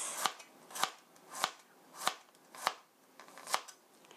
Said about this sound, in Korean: 마늘 2쪽도 얇게 슬라이스